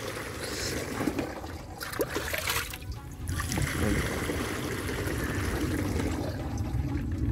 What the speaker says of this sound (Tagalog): Lagyan po muna natin ng tubig